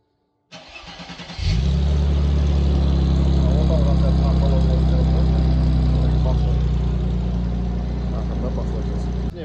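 A car with its original muffler and an X-pipe exhaust starts up and settles into a loud, deep, steady idle with a few rises in revs, close to the microphone, while people talk in the background.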